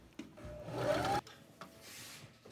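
A sewing machine runs a short straight-stitch seam on a skirt, its motor whirring up in pitch for about a second, then a few clicks and faint handling noises follow, nearby and quiet.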